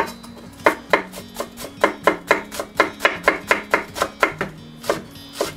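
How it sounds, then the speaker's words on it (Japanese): Knife chopping vegetables such as leek, carrot and daikon on a newly bought cutting board, a steady run of crisp, evenly spaced knocks, close and clear, with no talking. "この買ったばかりのまな板の音がいいですね。"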